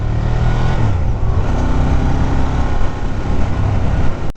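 A 2017 Ducati Diavel motorcycle engine pulls away on a test ride, a loud, steady roar as it accelerates, mixed with wind rush, with no talking.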